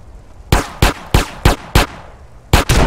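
Gunfire in the video game GTA San Andreas: five loud, evenly spaced single shots, a short pause, then two more in quick succession, close and sharp.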